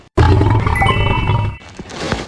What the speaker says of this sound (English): A lion's roar is so powerful.